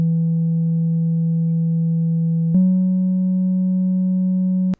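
A monophonic synthesizer holds a steady, loud triangle-wave tone that steps up to a slightly higher pitch partway through, then cuts off abruptly.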